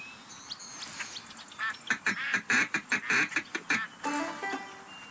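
Rapid run of duck quacks in the duck-hunting video game Duck Dynasty, a loud burst of rhythmic calls, like a duck call, following quieter chatter of birds, with more calls after.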